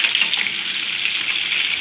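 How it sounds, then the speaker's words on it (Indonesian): Tofu frying in a pan of hot oil for a home-style fish pesmol dish, giving a steady, close, loud sizzle with dense crackling throughout and no talking. "Dan sekarang tahunya lagi kita goreng"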